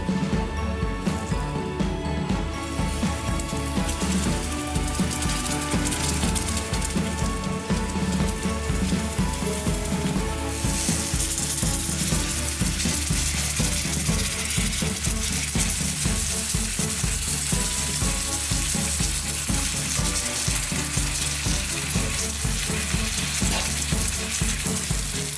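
Brinjal sizzling and frying in masala for a South Indian ennai kathirikai kulambu, a steady dense crackle with rhythmic clicking from stirring, continuous and fairly loud with no talk.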